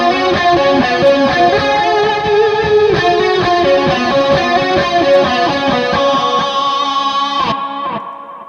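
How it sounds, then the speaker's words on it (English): Electric guitar run through chorus and distortion effects, a loud sustained saturated chord passage with shimmering, rich harmonics, played alone and fading out over the last second. "I wanted it chorus and distortion"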